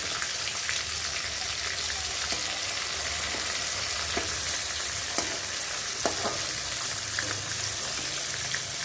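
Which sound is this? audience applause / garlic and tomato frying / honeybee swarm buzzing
garlic and tomato frying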